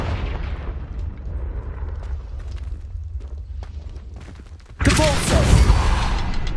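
A Confringo blasting curse explodes in Hogwarts Legacy: a sudden loud, bright burst with a crackling, rumbling tail erupts near the end after a stretch of quieter low rumble.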